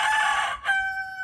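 A rooster crows nearby, loud and clear, one strained call that breaks off for a moment and then carries on as a long held note.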